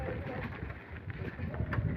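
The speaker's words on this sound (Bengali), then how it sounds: "আমরা এই শীতের সকালে পাখিদের কলরবে সেই প্রকৃতির ভাবটা অনুভব করে থাকি" Pigeons or doves coo softly at a distance on a winter morning in a village, faint calls over a low, steady outdoor rumble.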